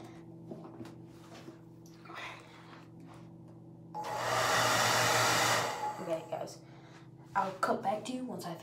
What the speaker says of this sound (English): I'll cut back to you once I finish drying my hair